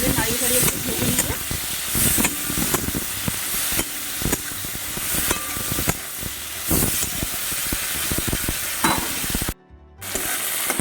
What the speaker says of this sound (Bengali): লবণ হলুদ মাখিয়ে রাখা চিংড়ি মাছ বেশিক্ষণ ভাজবো না, 2 মিনিট মতো এইভাবে নাড়িয়ে চাড়িয়ে একটু ভেজে নেব।